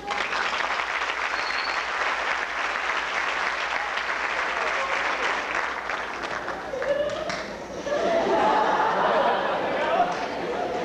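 An audience bursts into warm applause, sustained clapping with some chatter and laughter mixed in, swelling louder toward the end.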